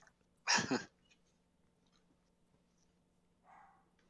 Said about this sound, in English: He only seems to bark when I'm streaming D&D.